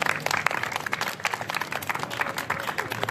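Dense, continuous clapping from the audience at a magic show fills the room, a busy patter of many hands at moderate level with little talk above it.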